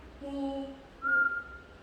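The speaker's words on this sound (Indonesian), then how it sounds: "Saya akan minta pasien untuk bersiul seperti ini Pak, mulutnya." During a cranial nerve examination, a patient whistles two short, clear notes, the first lower and held, the second higher and louder, close by and alone without talk.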